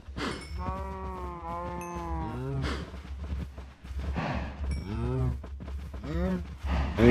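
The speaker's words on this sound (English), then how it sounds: "I'll take this wheat and breed my cows so I can start getting meat." Blocky cows lowing in the video game Minecraft, several drawn-out moos at intervals over a steady low hum, with someone talking between and over them.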